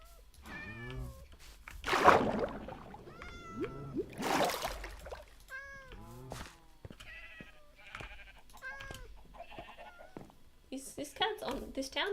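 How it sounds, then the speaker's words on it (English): Cats in the Minecraft video game meow again and again around a town being built. The short, high mews overlap each other and blend with voices and other game sounds. "This town is honestly overrun with cats."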